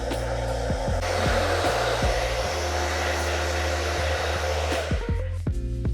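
Hair dryer blowing on hair at a barbershop, a loud steady whir close by that shifts in pitch as the airflow changes, then cuts back near the end.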